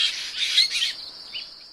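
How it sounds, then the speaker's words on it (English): A small nocturnal bird with spotted plumage gives a few harsh, high squawking calls in quick succession, followed by a thinner sustained tone, close and clear with no other sounds. "a small nocturnal bird known for its distinct spotted plumage and piercing yellow eyes"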